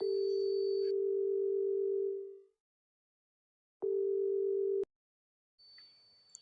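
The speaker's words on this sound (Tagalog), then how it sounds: "Kinuha ko yung cellphone ko at tinawagan ang yaya ni Lira" Phone ringing tone heard while calling from a cellphone: a steady electronic tone for about two seconds, a silence, then a shorter burst of the same tone, with a faint higher chirp before and after.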